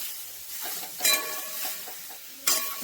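Grated carrots stirred in hot ghee in a kadai for carrot halwa: soft scraping and gentle sizzle, with two sharper spoon knocks against the pan.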